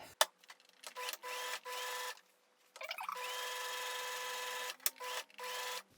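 A sewing machine stitching a special edition hat runs in short mechanical bursts, a steady rapid whir starting and stopping several times, close and fairly quiet, with small clicks between runs.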